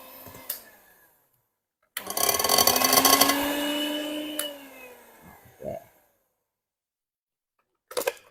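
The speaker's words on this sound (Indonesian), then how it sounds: "mixer pakai merek apa? Kita pakai merek Philips nih ya" Philips electric mixer beating chocolate sponge cake batter, a steady motor whir lasting about three seconds, its pitch sliding down as it slows, with brief clicks and knocks before and after.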